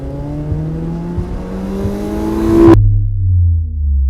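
A car engine revs hard, its pitch climbing steadily under a loud, rough roar, then cuts off abruptly to a lower idle rumble; close and alone with no talking.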